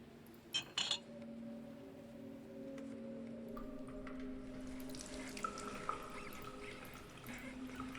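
Water runs from a tap in a kitchen sink in the video game Loretta, a steady faint stream following a couple of light clinks of dishes at the start.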